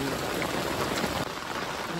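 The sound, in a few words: heavy rain falling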